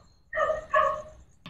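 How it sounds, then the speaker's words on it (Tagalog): A dog barks twice in quick succession close by, sharp and loud against a quiet night background, with the start of a third sound cut off at the end. "Ayaw tumigil ng aso."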